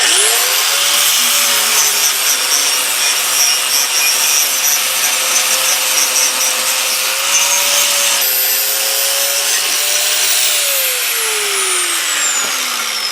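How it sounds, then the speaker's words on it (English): A worn sanding wheel on a power tool buffs weld edges and scale off metal, giving a loud continuous high whirring grind that holds steady, dips slightly in pitch under load, then winds down at the end. "I just want to buff off the edges of the welds, clean off some of the scale on here"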